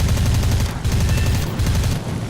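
Sustained rapid aircraft machine-gun fire in the War Thunder arcade air battle, loud and continuous bursts with two brief gaps, no talking.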